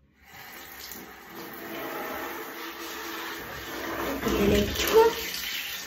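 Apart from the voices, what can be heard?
water running from a shower tap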